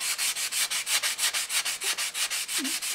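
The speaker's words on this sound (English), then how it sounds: "I'm sanding across both" Steady rhythmic back-and-forth scratching of sandpaper rubbing across kcolors and Stynylrez primer, about five strokes per second, close and continuous.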